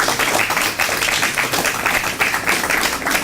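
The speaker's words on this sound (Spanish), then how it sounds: "Dale un fuerte aplauso al Espíritu Santo por eso." A church congregation claps and applauds together, a dense, loud and steady wash of many hands filling the room at close range, with no voices standing out.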